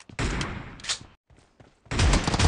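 Shotgun fire in the mobile shooter BGMI during a team deathmatch, loud booming blasts in two bursts separated by a short near-silent gap.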